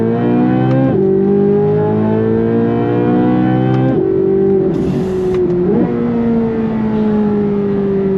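A 2023 Chevrolet C8 Corvette Z06 engine revs hard up close, with several sharp drops in pitch as its Tremec transmission downshifts, then settles into a steady high drone.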